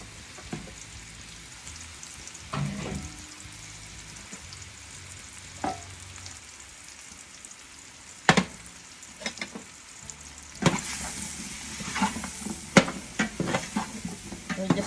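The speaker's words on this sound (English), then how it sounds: "So we'll start with the mushroom head. Put it all in the pan like this." Mushroom heads sizzle in a frying pan for a cream of mushroom soup with bacon, a steady close frying hiss broken by sharp stirring scrapes and clatters, with no talk.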